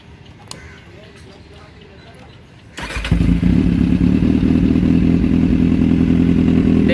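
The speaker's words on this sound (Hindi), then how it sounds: "तो चलो इसको स्टार्ट करके दिखाते हैं, आपको आवाज़ सुनाते हैं।" A Kawasaki Z800 motorcycle fitted with an SC Projects exhaust sits quiet with a few faint clicks, then fires up and settles into a loud, steady, rumbling idle close by.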